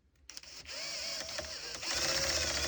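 A 12V drill driver with a multi-chuck drives 1.25-inch coarse-thread drywall screws, a steady close motor whine that climbs in pitch as the screw seats, with no voice over it.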